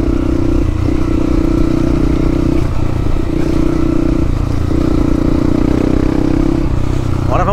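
A motorcycle on a trail ride near coastal ruins and beach cliffs drones steadily and close up, its engine holding a constant loud note with light clattering and rattling throughout, briefly rising at the very end.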